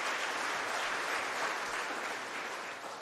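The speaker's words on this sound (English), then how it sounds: "They deserve a special round of applause" An audience at an agricultural awards ceremony claps for sponsors, a broad, even patter of many hands that carries steadily and fades slightly toward the end, with no talking.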